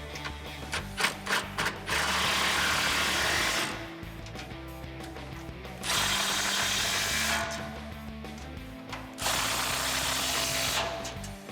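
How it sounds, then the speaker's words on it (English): Impact wrench tightening 13mm nuts onto rock slider studs under the cab of a 2015-2019 Ford F150, three loud sustained rattling bursts of hammering, close up, separated by short pauses and clicks. "we are just going to tighten up these 13 I'm going to be using an impact"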